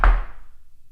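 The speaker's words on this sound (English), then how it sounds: "They just knocked on the freaking door." A single sharp knock on a door, close and fairly loud, followed by a short fading resonance, heard alone.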